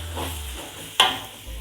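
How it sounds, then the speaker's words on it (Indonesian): Ground chili, candlenut and ginger paste hits a hot pan for Batak mie gomak, giving a sudden loud sizzle that settles into a steady frying hiss. "sekarang kita masukin cabenya. Ini tadi cabai, kemiri, jahe ya."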